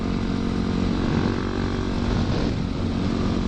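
A dirt bike engine drones steadily nearby, a continuous buzzing motor sound without talk, dipping slightly toward the end.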